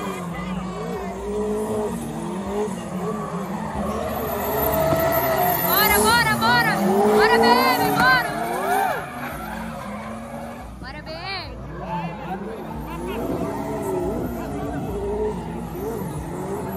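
A BMW and a Nissan Skyline drift at a drift championship, tires squealing loudly in long wavering screeches over revving engines, while an announcer talks over the action.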